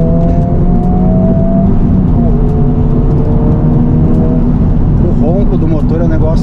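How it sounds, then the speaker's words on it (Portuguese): Engine and exhaust of a 2023 Honda Civic Type R during a top-speed run, a steady loud drone with shifting revving tones throughout, heard from inside the car. "Do motor é um negócio, é um som bem diferente, bem característico."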